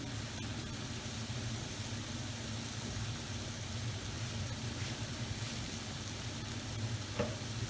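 Onion and capsicum frying in a pan with browning beef, a steady low sizzle with faint stirring scrapes, quiet and even throughout.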